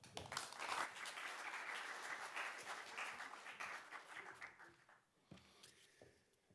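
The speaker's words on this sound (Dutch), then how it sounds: "geef hem ook een hartelijk applaus" Warm audience applause for columnist Professor Jos Swanenberg at a Tilburg University event, dense steady clapping for about five seconds before thinning out into a few scattered claps.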